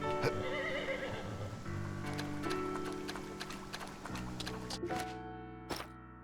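A horse in the video game Story of Seasons: Grand Bazaar whinnies loudly over a bright game music loop, followed by a few light hoofbeats and game effect sounds.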